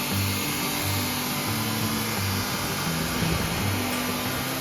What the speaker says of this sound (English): This is our edge sander. This sands only the sides of the board.